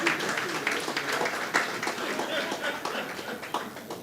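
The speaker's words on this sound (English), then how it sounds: "So give them a round of applause" A university audience applauds at a sexual harassment policy launch, steady crowd clapping filling the room for several seconds with scattered louder claps and some background voices.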